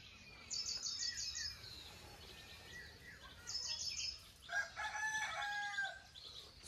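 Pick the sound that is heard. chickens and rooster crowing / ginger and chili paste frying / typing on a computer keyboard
chickens and rooster crowing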